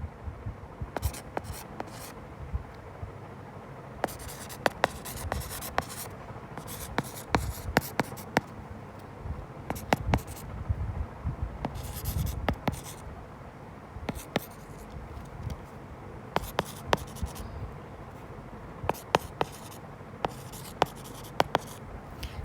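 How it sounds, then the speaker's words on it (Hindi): A marker or chalk scratches across a board in short bursts of writing, a close, dry squeak-and-tap pattern with pauses between strokes and a soft hum beneath. "नाम लिख देती हूँ मैं आपको।"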